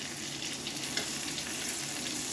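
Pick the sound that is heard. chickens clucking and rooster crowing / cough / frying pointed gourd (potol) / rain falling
frying pointed gourd (potol)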